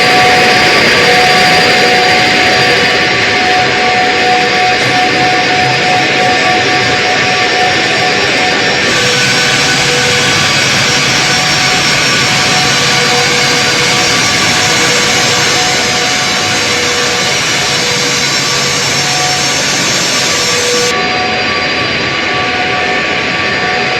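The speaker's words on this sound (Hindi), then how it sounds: "पुतिन जब लैंड हुए हैं तो सबकी नजरें पुतिन के इस विमान पर थी" Jet engines of Putin's presidential aircraft, the Ilyushin-style "flying Kremlin", roar loudly and continuously at close range for the whole stretch, a steady broadband whine with no speech.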